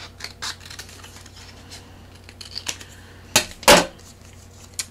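Scissors snip through patterned craft paper, trimming a bright flower-print strip, with a few soft clicks before two sharp, close cuts near the end.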